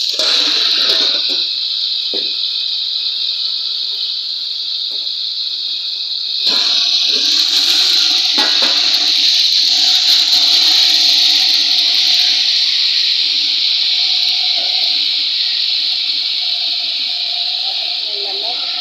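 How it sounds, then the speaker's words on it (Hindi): Water poured onto browned onions in a hot cooking pan, making a loud, steady sizzling hiss that swells midway and continues throughout. "प्याज ब्राउन हो गया तो थोड़ा सा हम पानी डाल"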